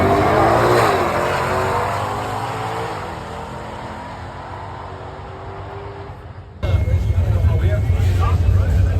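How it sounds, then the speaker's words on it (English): Drag racing at a motorsports park, a Shelby in the right lane and a turbocharged 1965 GTR: a loud engine roar fades slowly, then a second heavy rumbling burst cuts in near the end, with a voice talking over it. "DeFett's driving the Shelby right side. Calvin driving the turbocharged 65 GTR."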